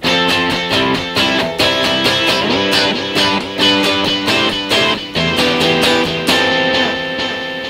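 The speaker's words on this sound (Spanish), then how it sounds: "Y vamos a prender el delay, a ver qué tal suena." Electric guitar run through a delay effect on a Line 6 POD HD500X in stereo, playing a steady series of picked notes and chords whose repeats trail behind each attack, loud and alone without talk.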